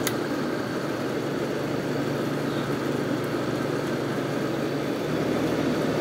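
Hotpoint Port-A-Cool portable air conditioner running indoors, a steady even whoosh of fan air with a low motor hum, constant and moderately quiet throughout.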